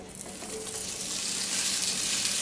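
Italian sausage and jalapenos fry in a cast iron skillet with a loud, steady, close sizzle that builds slightly and holds without a break.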